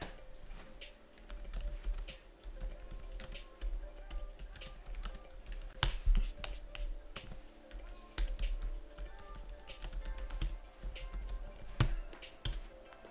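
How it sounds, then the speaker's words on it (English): Keys clatter on a computer keyboard in quick irregular bursts with short pauses, fairly close and moderately quiet, while playing Minecraft. "if you hear me typing,"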